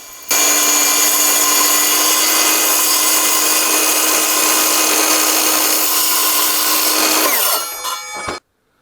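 A circular saw with carbide teeth cuts through threaded steel rod, a loud, close, high-pitched whine held steady for about seven seconds before it winds down and stops.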